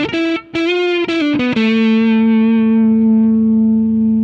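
A distorted electric guitar runs through an AmpliTube 5 Marshall amp simulation, with a few choppy picked notes followed by a long sustained chord that rings out and slowly decays, heavy and saturated, with no voices.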